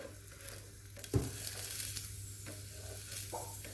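Cucumber rotti cooks with a little oil on a hot stone griddle, giving a steady, soft sizzle with a brief clunk of handling. No one speaks.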